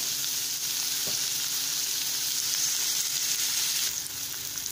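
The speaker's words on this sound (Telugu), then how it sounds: "ఆనియన్స్ కొంచెం గోల్డెన్ బ్రౌన్ కలర్ వచ్చే వరకు ఫ్రై చేసుకుందాం." Sliced onions sizzle steadily in hot oil in a pan, a loud, continuous frying hiss close by with a faint stir near the end and no voices, for a masala egg fry.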